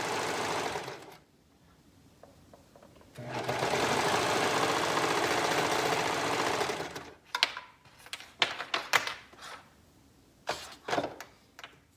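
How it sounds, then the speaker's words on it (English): A sewing machine stitching the underarm seam of a garment, two sustained runs of close whirring stitches separated by a pause, then short bursts and clicks of fabric handling. "So the first thing I will do is sew the underarm."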